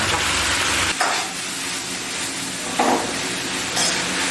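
Beef with scallions stir-fried in a wok, seasoned with dark soy sauce and oyster sauce, sizzles loudly and steadily, broken by sharp stirring clatters and bursts as ingredients hit the hot pan.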